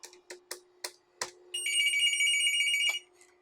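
An AT&T Merlin business telephone rings with one long electronic warbling burst, preceded by a few short clicks and taps of handling and button presses, close up.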